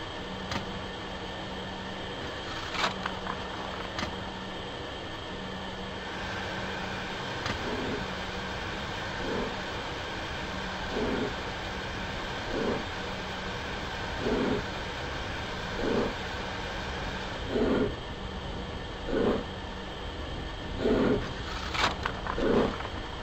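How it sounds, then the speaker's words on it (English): Steam locomotive in Microsoft Train Simulator pulling away from a standstill: a steady engine hum with chuffs that come slowly at first, then grow louder and quicker as the train gathers speed. "To move the train, pull the regulator toward you until the train starts moving."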